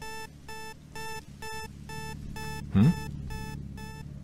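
An alarm clock rings in a video game, even electronic beep bursts repeating about twice a second, with a short murmured voice breaking in partway through.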